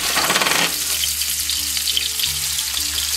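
Celery, potatoes and carrots hit an already hot pan with a loud burst of sizzle that settles into a steady, quieter frying hiss with faint background hum.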